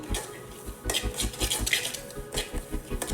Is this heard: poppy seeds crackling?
yes